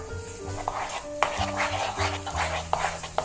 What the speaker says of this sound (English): I'm going to stir this in.